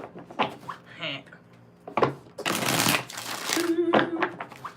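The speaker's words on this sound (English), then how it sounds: "3 more shuffles" A deck of tarot cards shuffled in several quick riffling bursts, close and crisp, with a person talking between the shuffles.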